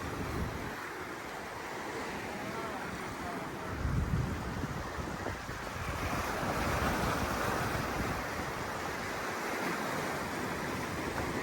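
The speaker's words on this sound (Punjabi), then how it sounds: "ਇੱਥੇ ਤੱਕ ਪਾਣੀ ਆਇਆ ਵਾ ਛੱਲਾਂ ਦਾ" Ocean waves roll in and wash ashore continuously on the Kerala coast, a loud steady surf roar mixed with gusty wind buffeting the microphone.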